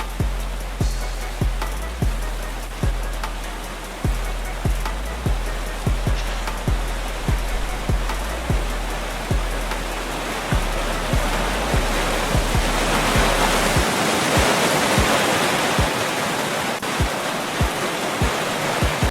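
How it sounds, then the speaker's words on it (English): Rushing waterfall in the Roblox game Vehicle Legends, a continuous broadband roar of falling water, with a regular series of sharp low thumps repeating about every half second for most of the stretch before the water carries on alone. "Like the waterfall, we actually have like the sound of like the water"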